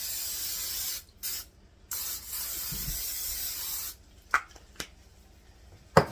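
Steady hissing of cooking spray onto a waffle maker for about four seconds, with a couple of brief pauses, followed by a few light clicks and taps.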